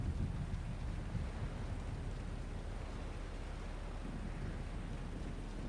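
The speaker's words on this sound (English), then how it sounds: "Thunderstorm." A thunderstorm with heavy rain in the Gears of War video game, a dense, steady wash of rain noise with low rumbling underneath, continuous and fairly quiet throughout.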